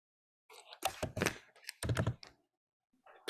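Computer keyboard typing while entering a value in OnShape CAD software, a few quick bursts of key clicks close up, followed by a couple of isolated taps.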